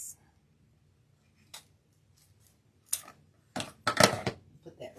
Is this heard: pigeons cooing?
no